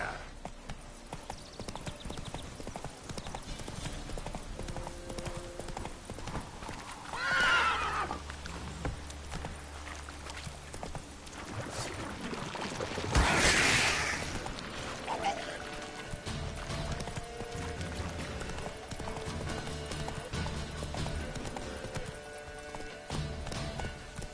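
The horse Roach gallops in the video game Witcher 3, with steady clip-clop hoofbeats running throughout and a couple of loud neighs or whinnies breaking in near the middle.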